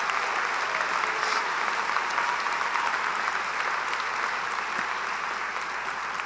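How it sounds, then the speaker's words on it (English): An audience at a 2018 St. Bonaventure graduation commencement claps in sustained, dense applause, even and continuous throughout. "Let's have a round of applause for them as well."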